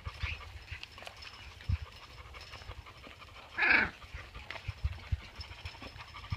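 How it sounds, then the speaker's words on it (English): A dog close by pants and snuffles quietly, then lets out a single short, bark-like burst midway through an otherwise calm stretch. "Big Dots is the one barking, growling"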